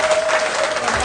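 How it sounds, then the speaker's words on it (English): An audience claps and applauds at a community installation ceremony, producing a dense burst of clapping that continues through the brief moment while a voice speaks over it. "And I applaud."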